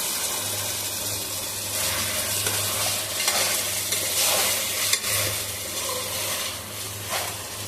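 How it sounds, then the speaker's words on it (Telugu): Chicken curry with chukkakura (sorrel leaves) is stirred in a pan, a steady bubbling sizzle with repeated scraping strokes of a spoon, close and continuous with no speech. "ఇప్పుడు చికెన్ ఒకసారి అంతా కలుపుకుందాము."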